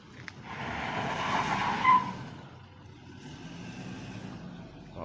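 A car drives up a mountain road to park at a remote village house, its engine and tires rising to a close, loud rush with a brief squeal before settling into a quieter idle.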